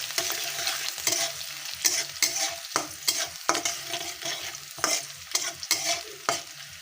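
Chopped onions fry in hot oil with a soft continuous sizzle, broken by repeated scraping stir strokes in an irregular rhythm, close and clear.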